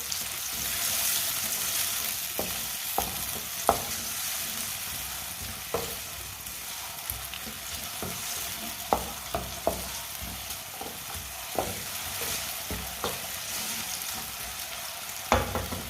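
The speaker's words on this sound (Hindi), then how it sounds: "प्याज को 1 मिनट के लिए मैंने पका लिया है।" Steady sizzling of onion frying in a pan, with occasional sharp clicks and scrapes of stirring over a constant hiss.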